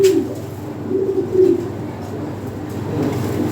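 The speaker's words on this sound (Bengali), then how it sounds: "খুবই চমৎকার এক পেয়ার কবুতর" A pair of Lahore siraji fancy pigeons, a male and a female, cooing up close in soft repeated low burbling calls under a steady background hum.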